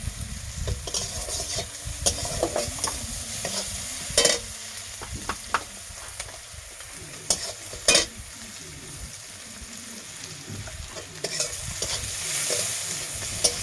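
Sliced onions fry in hot oil with crushed whole garam masala for an egg curry, a continuous sizzle broken by repeated sharp scrapes and stirring clacks of a spoon against the pan.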